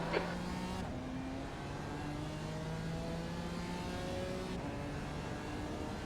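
Production race car engines at Oulton Park in iRacing's multi-class challenge, a steady drone with rising and falling pitch sweeps as the car shifts through gears, faint and continuous.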